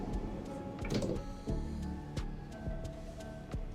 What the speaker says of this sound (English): Then we have a sliding door on the side.